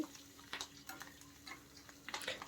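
Spices tempering in hot oil for a banana yogurt chutney, faint, soft crackling pops and light sizzling ticks scattered over a quiet background hum.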